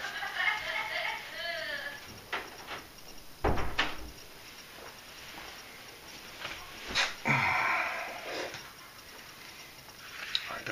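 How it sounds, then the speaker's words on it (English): A door being shut in a workshop while making a leather sheath, bringing a few sharp knocks and a solid thud close by amid rustling and faint background noise, with a voice speaking at times. "Let me close my door here."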